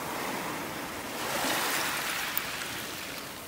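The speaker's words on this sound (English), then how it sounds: "The waves came and swooshed it away" Ocean surf washing up on a beach in North Naples, Florida: a steady broad rush of waves that swells slightly midway, with light wind, no voices.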